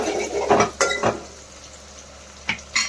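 Onions, with green chillies, being stirred in a pan for cabbage keema fry: a few sharp scrapes and clinks of a spoon against metal over a soft sizzle, close and clear with pauses between strokes.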